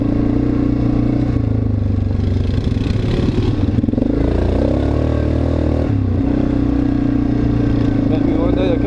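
A carbureted engine hums steadily and smoothly at high elevation, a loud continuous drone with a slight pitch shift midway, while someone talks over it.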